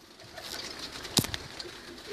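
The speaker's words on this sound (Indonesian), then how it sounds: "Burungnya ngamuk." An agitated bird inside a cave gives a short sharp call or flutter, one brief burst against a low hum of the cave's surroundings.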